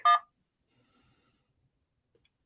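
A single short telephone keypad tone pressed to accept an incoming call, one brief clear beep at the start followed by near silence.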